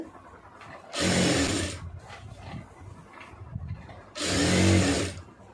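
A sewing machine stitches a lining piece in two short, buzzing bursts of rapid needle clatter, each under a second long and separated by a few seconds of quiet handling noise, close and clear.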